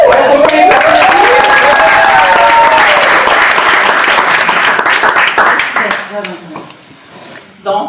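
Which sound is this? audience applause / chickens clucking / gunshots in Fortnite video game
audience applause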